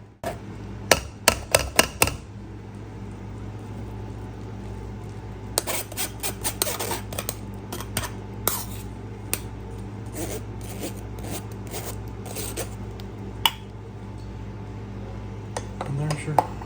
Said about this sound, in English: Once it gets down to the bottom, when it's thicker, then you can start pressing it with a spoon.